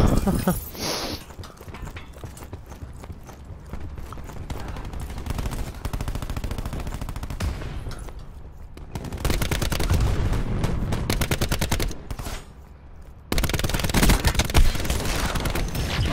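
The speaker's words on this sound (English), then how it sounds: "try this gun out. Okay, that's a new gun. DMR." DMR rifle fire in Call of Duty Black Ops 4, loud, dense bursts of gunshots that start and stop in long stretches, close and harsh amid busy battle noise, with a voice talking at times.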